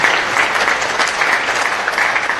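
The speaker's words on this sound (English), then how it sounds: "you deserve a big round of applause" Dense, sustained applause from a forum audience in Malaysia, gathered for a panel discussion on whether books bring enlightenment or pose a threat. The clapping is steady and continuous throughout, with no talking over it.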